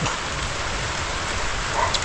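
Heavy rain pours steadily, a loud, dense, continuous hiss with no talk over it.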